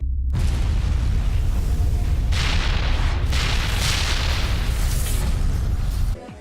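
A bomb blast in Mass Effect, a heavy, sustained roaring rumble that erupts suddenly and rolls on for several seconds with surging bursts before cutting off.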